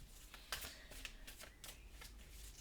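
Tarot cards from a witch-story deck are shuffled by hand, a quick series of soft papery riffles and flicks repeating in close succession, fairly quiet and with no talking.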